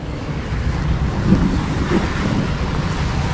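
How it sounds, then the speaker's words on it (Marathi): Heavy, steady roar of rushing floodwater pouring through the Poladpur valley in Konkan during widespread flooding, a dense continuous wash mixed with wind buffeting the microphone, with no speech. "पोलादपूर तालुक्याच्या खोऱ्यामधून एवढं सगळं पाणी आलंय"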